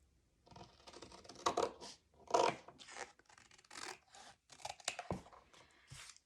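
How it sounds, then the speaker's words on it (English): Scissors snip and crunch through the corners of album paper, a run of close, crisp cutting and rustling sounds in short bursts separated by brief pauses. "So we take our scissors and cut all the corners."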